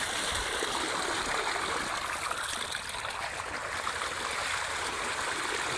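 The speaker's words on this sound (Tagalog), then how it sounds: "Patubig ng mais kasi" Irrigation water flows into a corn field as a steady, close rushing stream, loud and continuous throughout without a break, with no voices over it.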